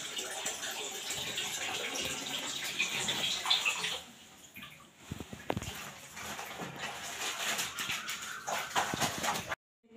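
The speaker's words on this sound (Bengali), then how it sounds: "এখন একটু শ্যাম্পু করে স্নান করব" Running water while someone bathes and shampoos at home, a continuous splashing flow that briefly drops away midway before resuming, then cuts off at the end.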